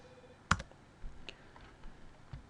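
A few sharp computer mouse clicks and light keyboard taps sound sparsely and close up in a quiet room, with one crisp click standing out before softer taps follow.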